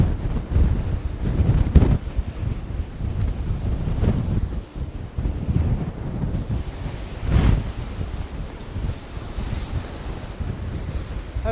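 Strong, steady wind roars across a microphone on the Scottish coast, with breaking surf and waves churning underneath and louder gusts swelling now and then, and no voices.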